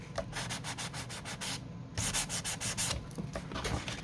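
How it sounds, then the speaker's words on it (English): Shiny double-sided tape is scuffed with an abrasive in quick, rhythmic back-and-forth rasping strokes, close and fairly loud, with a short pause partway through. "we're going to scuff this tape"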